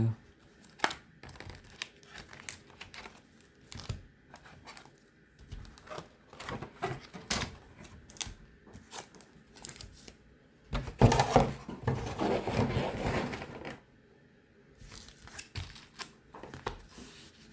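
Pokémon booster packs from a Flamme Blanche binder collection box being opened, with close crinkling foil, tearing and rustling in bursts and a longer loud crumple near the middle, with gaps of quiet between.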